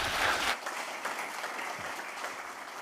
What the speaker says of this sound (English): an applause again for Christoph, please.